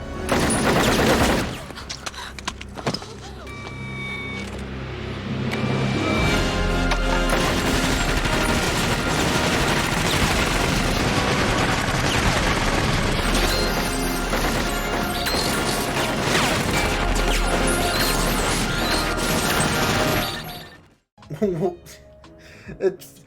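Gunfire from a Robocop 3 film scene plays as a long dense barrage of shots and crashes, loud and continuous for most of the stretch before cutting off, with voices heard at the start.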